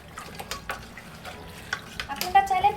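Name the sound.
mixing yogurt marinade by hand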